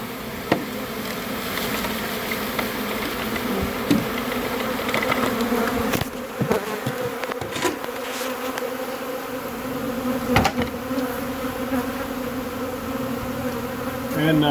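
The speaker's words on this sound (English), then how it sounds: "these bees coming out right here, they're a little ill. They're bumping me pretty hard" Honey bees being removed in a cutout swarm close by, a dense continuous buzzing hum with occasional knocks and bumps mixed in.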